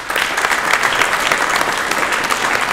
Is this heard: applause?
yes